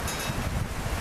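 Blustery wind on a bright Sunday afternoon buffets the microphone with a low, continuous rumble and rushing noise, loud and close throughout the brief moment.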